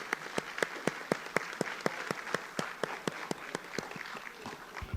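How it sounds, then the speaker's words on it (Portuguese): A room of people at a municipal council session applauding a staff member, fairly faint and distant, with sharp, distinct claps in a steady rhythm over a soft wash of clapping and no talk. "E eu gostaria que todos dessem uma salva de palmas para a Ana Cláudia"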